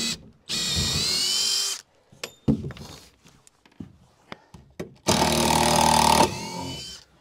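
A power drill whirs as it backs Torx screws out of timber wall framing on a garden room build, two long loud bursts with scattered clicks and knocks between them.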